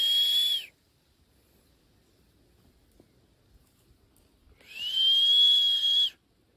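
A person whistles two sustained, clear, fairly loud notes, one short at the start and a longer one near the end, separated by several seconds of near silence.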